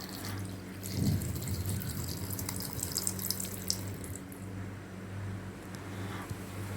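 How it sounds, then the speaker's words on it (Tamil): Chilled, boiled-and-cooled milk pours steadily into a mixer jar, a continuous liquid splash with a brief stronger gush near the start, alone and close. "250 ml பால் சேர்த்துக்கிறேன்"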